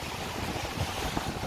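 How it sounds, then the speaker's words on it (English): Strong wind gusting at a beach in Tulum, Mexico, a continuous roaring rush buffeting the microphone, with surf noise blended underneath and no voices. "but it is very windy, as you can hear."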